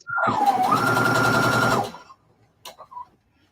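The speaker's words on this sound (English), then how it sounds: "I'm going to sew with a 1/4-inch seam" Sewing machine stitching a quarter-inch quilting seam, a rapid, even motor whir with a fast needle rhythm for about two seconds, then stopping, followed by a few faint clicks and handling sounds.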